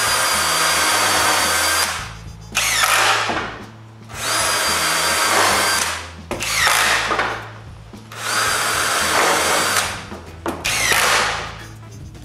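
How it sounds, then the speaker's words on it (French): A power drill drives screws to fix a freshly glued, cut wood piece onto a workshop frame, running in five loud bursts of about one to two seconds each, with short pauses between them and no voices. "puis je le visse en place."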